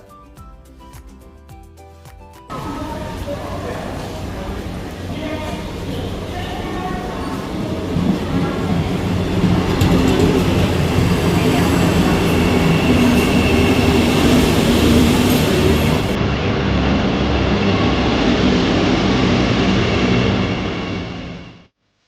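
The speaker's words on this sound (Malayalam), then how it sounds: "അപ്പോൾ ദാ നമ്മുടെ വന്ദേ ഭാരത് എത്തുന്നുണ്ട്" A Vande Bharat Express train rumbles loudly into a station, its roar building and holding steady for a long stretch before fading at the end.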